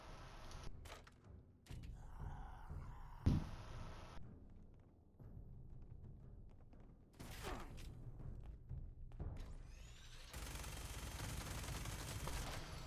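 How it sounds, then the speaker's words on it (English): Gunfire in the video game Fallout 76, with bursts and single shots scattered among impacts and thuds, and a sustained loud stretch of dense firing near the end. "I have no clue who else is firing at me."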